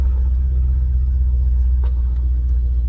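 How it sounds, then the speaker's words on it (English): Maserati GranTurismo S engine rumbling while driving, a deep, steady low-pitched drone heard from inside the car at a constant loud level, with no speech. "I swear it gets louder and louder every time I drive this car."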